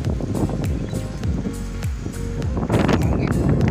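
Wind from a sandstorm in Al Ruwais, Abu Dhabi buffets the microphone with loud gusty rumbles and rushing bursts, steady and close throughout.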